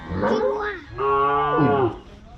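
A farm cow lows in two long, loud, close moos, the second rising and falling in pitch, with a short pause between them.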